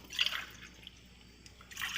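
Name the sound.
glasses of water poured into a greased kadai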